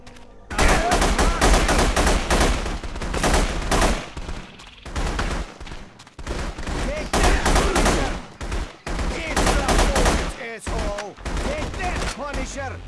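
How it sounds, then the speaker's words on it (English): Dense gunfire from The Punisher video game, with rapid bursts of automatic fire and repeated shots running almost continuously, loud and close, with brief gaps and game effects mixed in. "Gunfire probably alerted the whole island by now."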